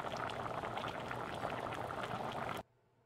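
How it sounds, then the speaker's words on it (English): Water and vegetables for butternut squash soup boiling over high heat in a pot, a dense close bubbling roar for under three seconds before cutting off abruptly. "Then we're going to bring it to a boil over high heat."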